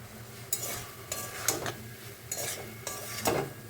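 Banana stem curry with chickpeas and peanuts stirred in a pan, five or six distinct scraping strokes of a spatula over a faint, low sizzle.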